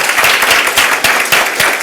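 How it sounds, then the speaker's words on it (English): Audience applause at a community meeting, loud and close, a dense steady patter of many hands clapping with slight rhythmic pulses, filling the whole moment. "How about just another round of applause?"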